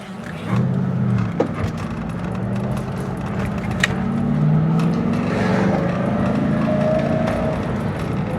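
A flood-damaged 11k-mile Mustang Cobra with a new clutch drives on the road, its engine droning steadily and rising in pitch as it accelerates, with wind noise in the cabin, no talking.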